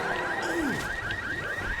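Car alarm in the Left 4 Dead video game, a rapid repeating electronic warble pulsing steadily with a falling tone sweep partway through, loud and continuous under game noise.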